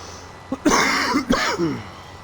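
A person's coughing fit, close up: a short cough followed by two harsh, rasping bursts with a throaty wheeze between them, fading out after about two seconds.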